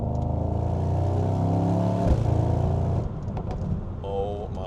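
Mercedes-AMG GT63 Coupe engine revving hard under acceleration toward 7,000 RPM, a loud rising harmonic drone heard from inside the car, then dropping off with a gear change as it pulls again.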